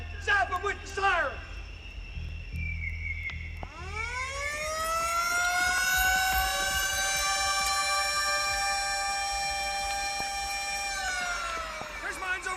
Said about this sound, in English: Zap him with your siren, man! Zap him with the siren!